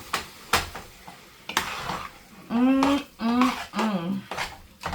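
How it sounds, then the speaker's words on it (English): A spoon stirs sausage and ground beef stuffing in a frying pan, with scraping knocks and a soft sizzle at close range, while a voice hums or talks over part of it. "I'm going to give this another little mix and see how it's going on the bottom"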